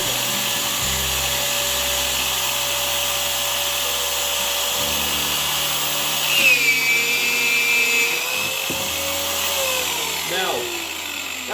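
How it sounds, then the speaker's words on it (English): A power drill boring plumb hinge recesses into a door edge, a steady whine held for several seconds with pitch shifting as the bit cuts, alongside someone talking. "Now, that's the 2 plumb hinge recesses drilled."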